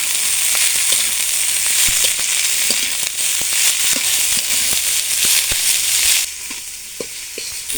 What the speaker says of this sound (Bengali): বাঁধাকপিটাও দিয়ে দেবো। কাঁচা লঙ্কা কুচিও দিয়ে দেবো। সব কিছু সুন্দর করে ভেজে নেব।